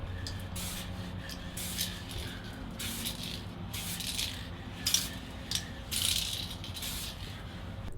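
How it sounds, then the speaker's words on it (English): Spray Max 2K clear coat hissing from an aerosol can onto a car taillight lens for an FRS/BRZ/GT86, in several short bursts over a faint low background hum, close and fairly quiet. "I put on about 3 even coats of the clear of the Spray Max 2K, and we have a nice gloss finish."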